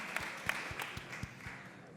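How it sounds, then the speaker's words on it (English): A small audience at a boxing press conference gives a sparse, faint round of clapping, a few spaced claps tapering off within two seconds. "Give yourself a round of applause."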